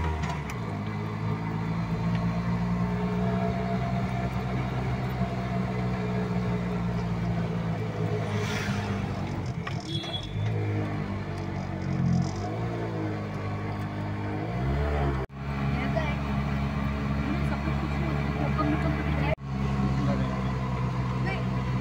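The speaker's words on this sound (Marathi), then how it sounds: "रिक्षा बघा आपली डागडुग करते." An auto rickshaw's engine labours while climbing a winding ghat road, a steady rattling drone that continues for the whole stretch, close and loud, with the pitch shifting slightly as the load changes.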